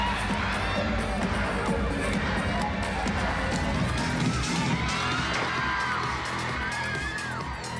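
A concert audience of Japanese fans cheers at a show, making a dense, steady roar of screams and shouts that fills the space from start to end at a constant loud level.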